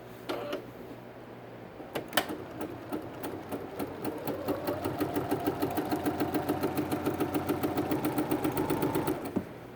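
Domestic sewing machine stitching fabric, its needle running in a steady fast mechanical rhythm that starts after a couple of seconds and holds close and fairly loud to the end, with faint background noise and no talk.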